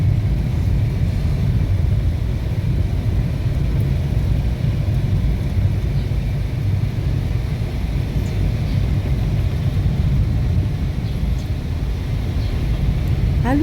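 Steady low road rumble from vehicles passing on a road in Donsol, Sorsogon, a continuous broad wash of traffic noise throughout with no distinct voices.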